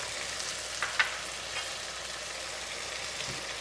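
Masala with coriander powder, chili powder and turmeric fries quietly in a pan for baby corn masala, giving a faint, steady sizzle with a couple of soft stirring clicks.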